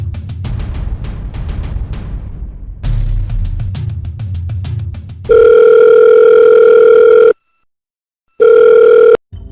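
A telephone dial tone sounds loud and steady during a phone call, cutting in after rumbling handling noise, pausing briefly, then returning for a second stretch.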